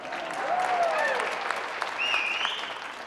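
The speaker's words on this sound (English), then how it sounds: "no, go ahead, we'll take the applause." Audience applause at a civic award presentation, a broad wash of clapping rising and holding, with a few whoops and voices mixed in.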